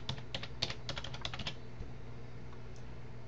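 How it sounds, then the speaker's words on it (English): Quick bursts of computer keyboard typing, soft and close, tap out a short word in a quiet room, then stop, leaving only a faint background hum. "We're going to type in attractions there."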